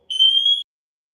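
A smoke alarm sounds during a test, giving one steady, loud, high-pitched electronic tone that lasts about half a second and then cuts off into silence.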